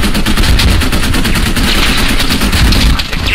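Dense, rapid gunfire from many weapons during a military live fire exercise, loud and close, with continuous overlapping bursts that barely pause for over three seconds and no voices.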